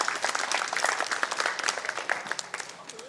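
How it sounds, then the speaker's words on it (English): A small audience at a senior center claps in applause for a basketball coach, a moderate burst of many hands clapping that thins out toward the end. "Give him a round of applause."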